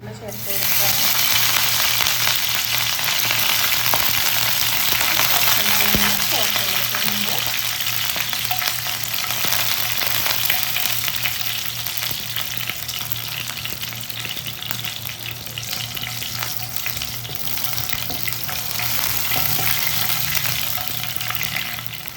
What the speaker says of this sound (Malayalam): കടുക് പൊട്ടി വന്നാൽ വറ്റൽമുളകും കറിവേപ്പിലയും കൂടെ ചേർത്ത് കൊടുക്കാം കേട്ടോ.